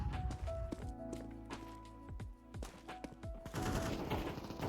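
A Negev machine gun firing in Counter-Strike, rapid bursts of gunfire mixed with footsteps and other in-game sounds, loud and busy throughout.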